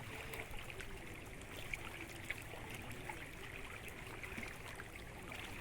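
Soft, continuous rush of a large creek river flowing near Kumbhavade, Rajapur, faint and even throughout with small trickling details.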